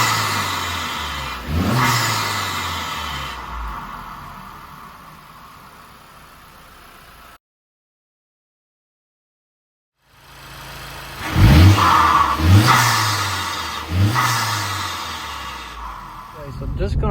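A Honda Civic Type R FL5 fitted with a PRL turbo inlet accelerates through repeated gear pulls, each rising engine note dropping at the shift, with a short silent gap partway and someone talking at times.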